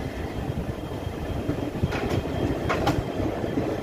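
The Haldibari-Kolkata Triweekly Intercity Express pulls away from Barsoi with a steady rail rumble and soft clickety-clack of wheels. A few faint metallic squeals rise briefly midway.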